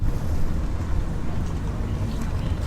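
A low, rumbling engine of a passenger boat on Bangkok's Saen Saep canal churns steadily nearby in the morning as it docks at a pier, with faint background wash and no voices.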